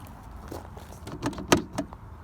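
Audi TT being locked with the key fob lock button after the door closes, giving a few short clicks and a sharper clunk near the middle, close and fairly faint over a low background hum.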